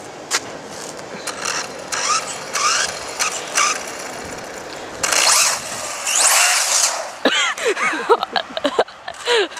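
An RC car's electric motor revs in repeated bursts, whirring and whining with mechanical gear noise, loud and close, with short pauses between runs.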